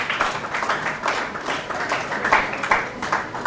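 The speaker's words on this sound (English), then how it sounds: "Round of applause for him." An audience at an awards gathering claps together in a steady, dense patter of many hands, fairly loud and sustained throughout with no voices heard.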